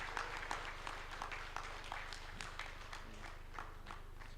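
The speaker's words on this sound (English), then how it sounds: "Let's get up and give him a clapping ovation." Guests at an end-of-year party rise for a standing ovation, clapping in a faint, uneven patter of scattered hand claps across the room, heard alone without talk.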